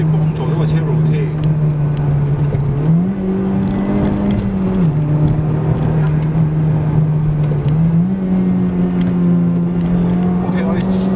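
A 2015 Honda Civic Type R engine roars loudly and continuously at full throttle while pulling out of a corner, its pitch stepping up and down through the gears, with someone talking over it.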